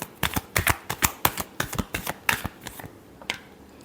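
Tarot cards get a final shuffle, a close, rapid run of crisp card slaps in quick succession that taper off toward the end.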